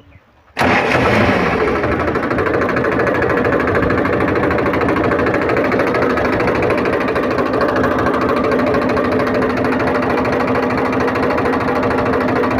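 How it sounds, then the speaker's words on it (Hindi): A repaired Powertrac 434 diesel tractor engine starts up and then runs steadily at a loud, continuous idle with a rough, throbbing chug. "अभी हम फिर से ट्रैक्टर को स्टार्ट करके और इसका साउंड सुनाएंगे"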